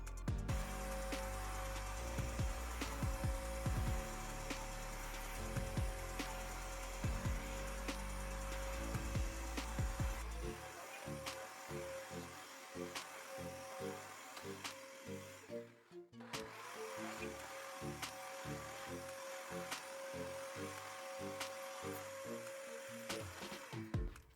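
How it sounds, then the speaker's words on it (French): A cordless wet vacuum cleaner runs across a household floor with a steady motorized whir, faint and continuous, with brief dips and changes in tone as it moves, and nobody speaks. "à savoir que l'aspirateur, lorsqu'il est bien plein, vous pouvez nettoyer jusqu'à 200 mètres carrés"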